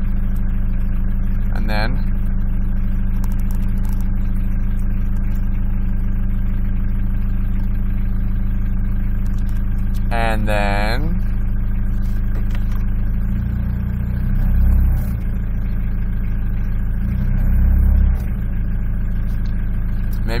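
A Mitsubishi Pajero engine with a stalling fault idles steadily with a low, constant rumble that runs throughout. Someone talks briefly over it, and a couple of louder low thumps come toward the end.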